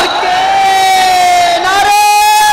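Loud crowd chanting religious slogans in unison, a sustained, dense wall of voices shouting together close up and continuously.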